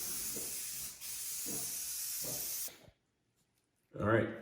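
Spray gun hissing as a final purple coat goes onto a car part of an Eagle Talon or Mitsubishi Eclipse, a steady close spray with a brief pause, ending abruptly in silence before a voice speaks.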